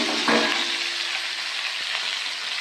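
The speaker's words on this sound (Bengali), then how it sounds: "আলু আর পেঁয়াজ কলি দিয়ে ভাজা ভাজা করব" Potatoes and onion stalks fry in a hot pan with green chilli and whole garlic, giving a loud, steady sizzle with a brief stirring clatter near the start and no talk.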